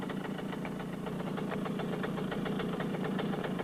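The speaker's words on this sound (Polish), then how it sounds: "Uruchamiamy silnik, naciskając energicznie dźwignię nożną rozrusznika." A Romet moped's two-stroke engine chugs with a steady, rapid, knocking beat just after a kick start, close and continuous with no voices.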